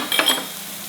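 Dry masala spices, coriander powder and turmeric stirred into bitter gourd in a pan for karela bhaji, giving a brief scraping stir with a soft sizzle that fades quickly.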